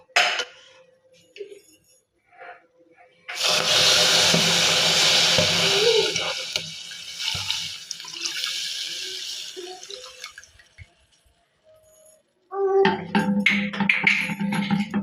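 1.5 litres of milk poured into a pan of browned sugar mixture for sweet yogurt, a steady liquid splashing pour lasting several seconds, preceded and followed by clinks of kitchenware and a spoon.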